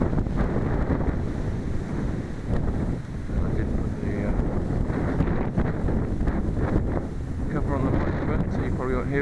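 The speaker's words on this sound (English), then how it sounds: "but it's very, very windy." Strong, steady wind buffets the microphone of a cyclist riding along a lane near York on a cold, rainy race day, a loud continuous roar with gusty low rumbling throughout.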